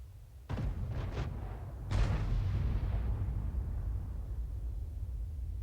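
A tank gun in World of Tanks fires at an FV3805: a loud, deep cannon blast followed by quick follow-up cracks and a second heavy boom, each trailing off in long rumbling decay.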